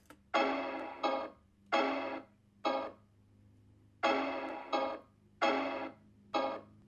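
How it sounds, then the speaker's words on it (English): Chopped piano sample cut from the outro of a song plays as short, bright, stabbing chord bursts in an uneven repeating rhythm, loud and alone over a faint low hum. "So the pianos sound like this."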